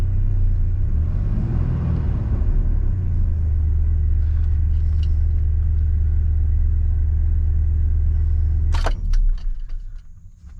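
A Chevy Blazer engine, running after an ignition coil replacement, holds a steady low rumbling idle up close. Near the end a brief metallic clatter sounds, then the rumble drops away.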